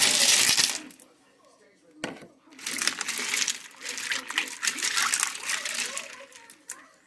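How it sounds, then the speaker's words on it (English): Ice cubes dumped into a container of pickles for an ice-water soak, with a loud clattering rattle and splash in bursts after a pause, and a voice talking nearby. "I'm going to dump some ice in here."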